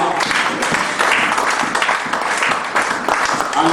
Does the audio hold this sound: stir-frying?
no